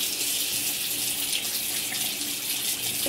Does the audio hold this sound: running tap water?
yes